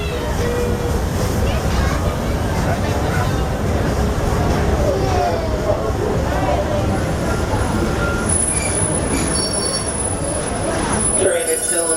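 Walt Disney World Railroad train rolls along with loud, continuous rumbling and wheel squeal, a steady rail clatter throughout and a brief high tone near the end, with background chatter from passengers.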